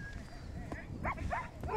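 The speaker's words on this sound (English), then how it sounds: "And now we're feeding the dogs" Sled dogs at feeding time on a snowy polar expedition give short yips and whines against a low rumble of wind and movement, close and brief, with no clear talk.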